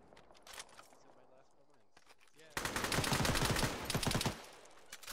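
Bursts of automatic gunfire crackle during an assault in a tactical military video game, rapid overlapping shots at moderate distance, following a quieter stretch of scattered sounds and brief voices.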